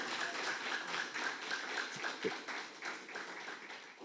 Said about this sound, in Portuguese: Você pode aplaudir o Senhor com essa palavra?